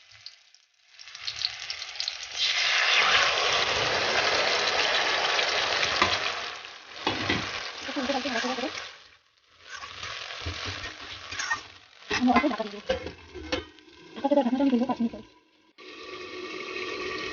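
A mustard and turmeric egg mixture sizzles in a hot wok, close and steady in bursts broken by short quiet gaps and stirring.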